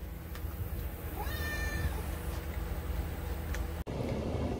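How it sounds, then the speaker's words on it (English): Cats meowing indoors at feeding time, a brief thin meow in the middle rising faintly over a steady low hum and background noise. "the cats are meowing at me like they're starving to death"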